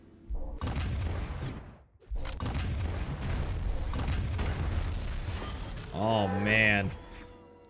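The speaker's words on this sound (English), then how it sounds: "Just tons of explosions across." Booming, crackling explosions from a Brawlhalla championship match burst in rapid succession across most of the stretch, layered under excited commentary, with a brief lull before resuming.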